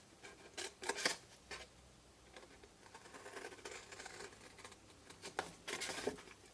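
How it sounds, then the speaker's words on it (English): Scissors snip a square out of a papercraft tuck-and-fold box, giving short crisp cutting sounds in small bursts with pauses between, close and fairly quiet, no one talking. "I'm going to cut that square away."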